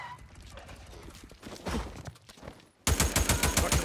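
Gunfire during a sniper ambush in the video game Days Gone, scattered shots and game noise, then a sudden dense burst of rapid repeating fire near the end.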